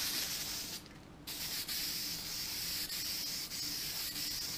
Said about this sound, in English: I'm just taking the glue here and kind of generously spraying it.